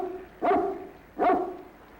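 A dog named Mr. Bascom gives two separate sharp barks, about a second apart, fairly close and clear against a quiet background.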